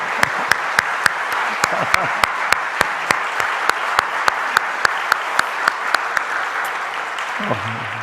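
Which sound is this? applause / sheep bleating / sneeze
applause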